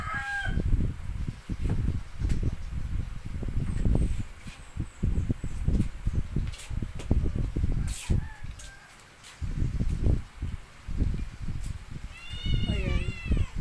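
Farm chickens cluck and call around a small farmyard, bursts of short clucks repeating throughout with a rising, crowing-like call near the end, mixed with people talking nearby.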